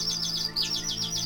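A sparrow chirps in quick, bright repeated bursts over a steady soft hum, close and clear with no speech.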